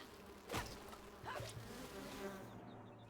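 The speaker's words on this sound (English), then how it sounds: "Something sounds like a very angry vat of bees." In the video game Enshrouded, a faint, droning buzz like a swarm of angry bees hums steadily, swelling and fading with a couple of louder passes and no talk over it.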